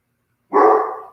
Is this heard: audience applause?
no